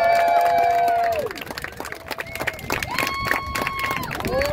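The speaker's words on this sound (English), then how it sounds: "Come on, guys, let's get hype. Let's cheer these guys on." Crowd at a drift competition cheering and clapping for the drivers, a steady, fairly loud roar with scattered shouts, mixed under prominent voices talking.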